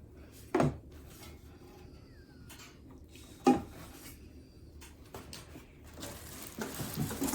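A removable non-stick metal insert from a Ninja Foodi Possible Cooker Pro is handled, giving two sharp metallic clanks a few seconds apart over low rustling and scraping.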